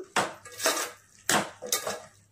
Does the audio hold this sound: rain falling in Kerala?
no